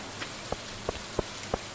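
Rain falls in the Stardew Valley video game, heard as a soft wash of drizzle broken by four evenly spaced, distinct droplet plinks, alone with no talk.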